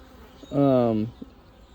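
Honeybees buzz during a spring hive inspection, one close, loud buzz rising for about half a second over faint background sound.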